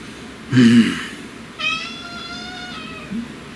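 A cat meows twice in quick succession, first a short low cry then a longer, higher drawn-out meow, followed by a faint brief chirp; close and fairly loud.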